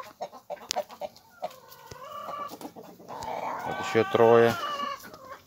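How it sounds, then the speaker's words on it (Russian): Young chickens cluck and call close by in short bursts, with a young rooster's louder voice near the end; a person speaks briefly among the birds. "Петух заигрывает с ними прям. С курицами."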